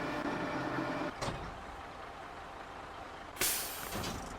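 Rear ramps unfold from a truck in SnowRunner with two sharp pneumatic hisses, one short and one louder and longer near the end, over a constant engine hum.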